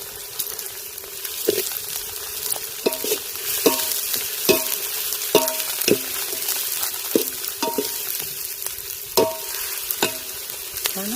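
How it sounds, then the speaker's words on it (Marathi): Onion frying in oil in a pot, a soft steady sizzle beneath repeated close metallic clinks and scrapes of a spoon stirring at an uneven rhythm. "तेल आणि कांदा व्यवस्थित फ्राय झाला आहे"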